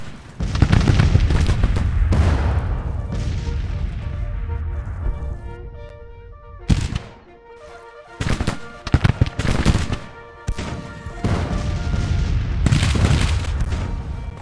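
An artillery battle in the Civil War strategy video game Grand Tacticians rages with loud cannon booms and rolling volleys of musket fire, heavy bursts separated by brief lulls with tonal game sounds.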